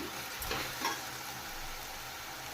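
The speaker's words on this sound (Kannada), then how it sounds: "ಅರಶಿನ ಪುಡಿ ಹಾಕ್ಕೊಂಡು ಚೆನ್ನಾಗಿ ಫ್ರೈ ಮಾಡ್ಕೋಬೇಕು ಟೊಮೊಟೊ ಬೇಗ ಫ್ರೈ ಆಗುತ್ತೆ" Tomatoes, turmeric and spices frying in a pan for mutton biryani, a steady close hiss of sizzling with a couple of brief stirring scrapes and no talk.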